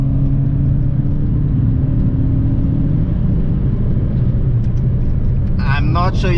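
Nissan Juke 1.6T turbo engine, rated 140 kW, on a night drive: a steady loud cabin rumble under acceleration. Near the end comes a brief hissing burst that fits a turbo dump-valve release between gears.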